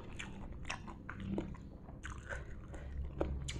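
Crunchy chewing of stir-fried winged beans, a steady run of close, crisp bites and crunches repeating with no talk over them.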